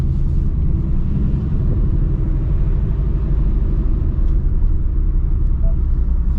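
A 2024 Ford Mustang GT cruises with a loud, steady, deep engine rumble that holds evenly from start to finish, heard from close by.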